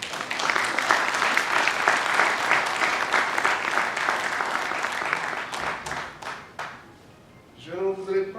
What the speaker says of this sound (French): Nous devons l'applaudir